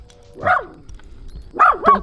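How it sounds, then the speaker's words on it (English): A dog near a herd of cows lets out a single bark, then a quick pair of sharp yips a second later, loud and close with quiet between them. "Don't bark at the cows."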